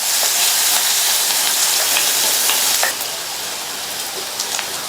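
Crushed garlic sautés in a pan, a loud close frying hiss with faint clicks that drops noticeably in level partway through and then continues more softly, without talking.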